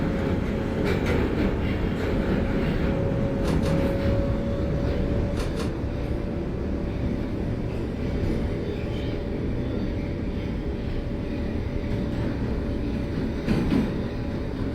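An NYC Subway R142A train in the OpenBVE simulator runs steadily, giving a loud, continuous rumble with a sustained electric whine and occasional faint clicks. No one speaks.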